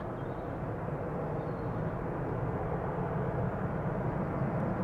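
A jet airplane takes off from the Polderbaan runway at Amsterdam Schiphol Airport, a steady, distant broadband engine roar holding at an even level throughout.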